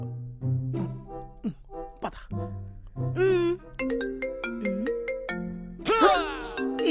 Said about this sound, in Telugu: అయినా ఫోన్ ఎలా రింగ్ అయింది?